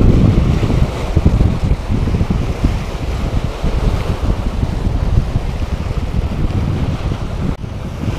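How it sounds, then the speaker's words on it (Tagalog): Strong, steady wind roars by the sea at Manila Bay, with broadband gusts and buffeting rumble that continue nearly without pause, probably along with distant water and waves. No one speaks. "Grabe, sobrang lakas ng hangin dito guys."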